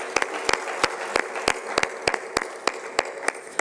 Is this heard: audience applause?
yes